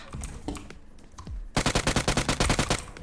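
A rapid burst of automatic gunfire in PUBG Mobile rattles loud and close after a stretch of quieter scuffling noises.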